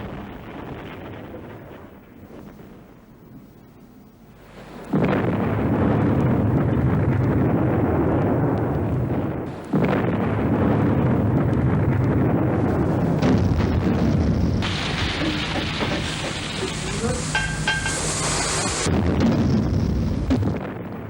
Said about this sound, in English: U-110 was attacked with depth charges by the British corvette Obrisha and blown to the surface